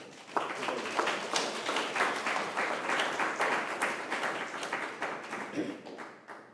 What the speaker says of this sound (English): please, a big round of applause for our